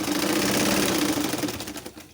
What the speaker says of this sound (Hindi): मैं इसको सिलाई कर लूँ